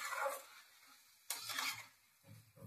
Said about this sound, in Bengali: চাল কুমড়োর সঙ্গে নারকোল কোড়াটাকে পুরো ভালো করে মিশিয়ে নিতে হবে।